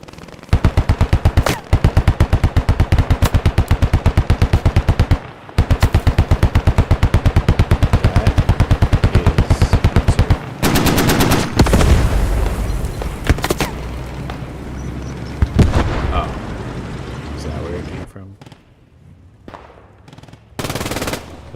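Long bursts of rapid automatic machine gun fire in the World War II shooter Squad 44, loud and close, with brief pauses between volleys, then scattered distant gunshots and quieter battlefield noise toward the end.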